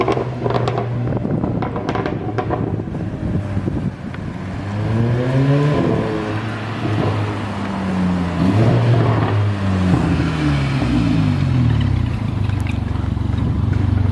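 Mercedes-Benz CLA 45 AMG exhaust revving loudly up and down several times, with rising and falling engine pitch over a steady idle, close by and with no talking.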